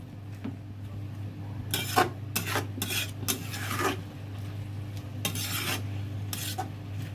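Coriander leaves being stirred in a pan, with intermittent scraping and rasping strokes of a utensil over a steady low hum, close and moderately loud.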